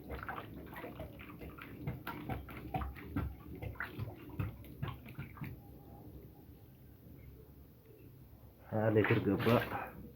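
Water gushes into a container in a brief, loud splashing burst near the end, after a long stretch of voices talking over faint background clatter.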